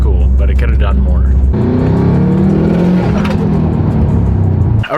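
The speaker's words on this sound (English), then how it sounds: "I might do a little ripper on the way home though, to enjoy my 500 wheel STI." A built Subaru STI with about 500 wheel horsepower revs its engine, starting as a low steady rumble, then climbing into a loud rising howl that holds for several seconds before cutting off abruptly.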